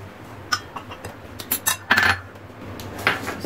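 Kitchen knife slicing fresh curry leaves finely on a board, a handful of quick, light taps and clinks spread unevenly over a few seconds, close and fairly soft with no voices.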